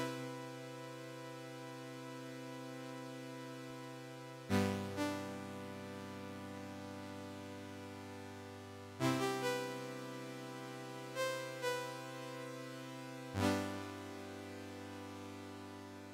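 UAD PolyMax synth playing ambient chords with a long release, each note swelling in softly and ringing on so the tones overlap and blur into one another, with fresh chords entering every few seconds at low volume.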